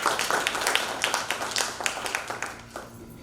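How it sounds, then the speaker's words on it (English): Scattered clapping from a small audience at a youth debate, loud sharp claps at first that thin out and fade to quiet near the end. "Let's have a round of applause"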